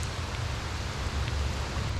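Heavy rain pours steadily during a fishing outing, a dense, even wash of noise with a constant low rumble, near and unbroken, with no talk over it.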